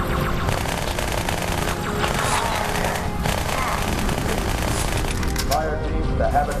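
Rapid automatic gunfire from the Halo 2 Xbox game rattles continuously and loud throughout, with a dense barrage of shots and blasts layered under a speaking voice.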